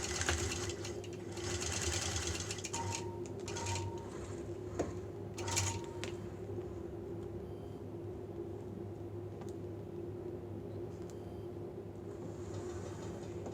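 Sewing machine stitching quilt-as-you-go log blocks, a continuous mechanical whir and rapid needle chatter that runs the whole time, with a few brief clicks and handling noises early on and no talking.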